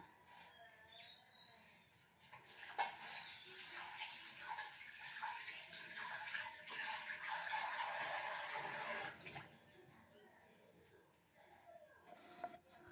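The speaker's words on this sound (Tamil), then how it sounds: "தண்ணி ஊற்றி வாஷ் பண்ணிக்கலாம்." Ration rice being washed in water in a home kitchen: a few seconds of steady splashing and pouring water, fairly close, then tapering into quieter sloshing.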